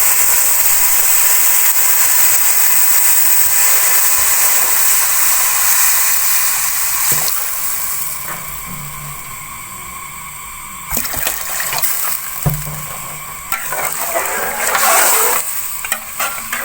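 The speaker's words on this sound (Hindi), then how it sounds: "अब इसमें 4 गिलास पानी को शामिल कर लेंगे।" Steady frying sizzle and stirring in a hot pan while making vegetable soup, with a burst of watery hiss and bubbling as water hits the metal partway through.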